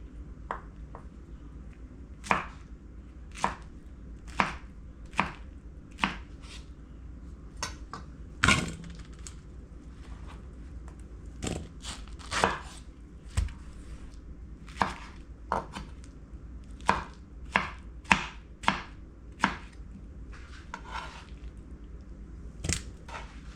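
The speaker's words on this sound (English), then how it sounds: "Alright, I'm gonna cut into cube like this, small cube." A knife chops pineapple into small cubes on a board with sharp, distinct knocks, irregularly spaced and close by over a quiet background.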